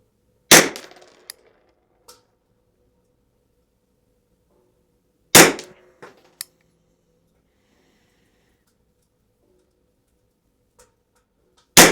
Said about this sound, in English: I better shoot a second 5-shot group and see what happens with that one